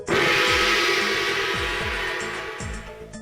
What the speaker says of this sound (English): The one you heard is a gong, a flat, circular metal disc which is hit with a mallet.